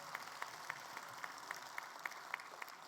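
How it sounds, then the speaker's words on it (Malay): Crowd applause at a youth-wing leader's policy address, a faint, distant wash of clapping from a large audience with a few sharper individual claps standing out at a regular pace. "Kita bagi tepukan gemuruh kepada mereka."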